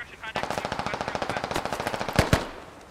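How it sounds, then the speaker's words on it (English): Sustained rapid machine gun fire in the military shooter Squad during a fight against Russian forces, a steady burst of evenly spaced shots with two sharper, louder cracks near the end before it fades. "JP and Pony returning fire on the Russians"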